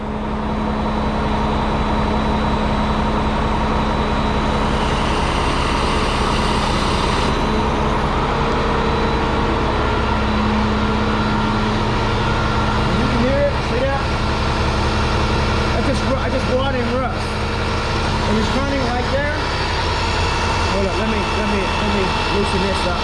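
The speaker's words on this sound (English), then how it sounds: "Okay, and now I'm going to engage the pump." A hydraulic-driven pump, freshly repacked and being washed out, runs steadily after engagement with a constant low mechanical hum and drone throughout, while someone talks intermittently over it.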